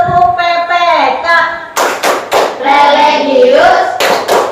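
An Indonesian classroom group chants in unison, then breaks into a quick run of sharp, loud rhythmic hand claps interleaved with more chanted words, all close and energetic.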